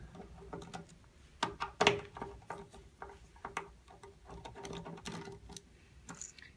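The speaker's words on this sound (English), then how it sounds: "you would just unscrew this." Small mechanical clicks and ratcheting ticks sound as a screw is turned out on the clamp frame of an ATC Brailon duplicator, close and fairly quiet, with a few sharper knocks near the start.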